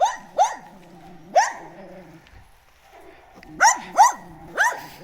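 A dog in Spain barks in short, sharp bursts, first three close together, then a pause with faint whimpering, then another quick run of three loud barks nearby.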